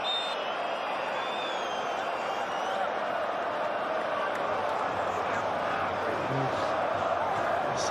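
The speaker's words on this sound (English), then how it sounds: "Such a fervent backing from the home crowd." The home crowd at a Feyenoord versus PSV football match roars as a continuous distant stadium din, with a commentator talking over it.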